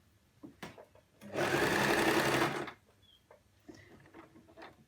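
A home sewing machine runs a steady reverse stitch to secure a seam on a wrap skirt, a continuous whir lasting about a second and a half, close and loud, framed by quieter handling clicks and rustles.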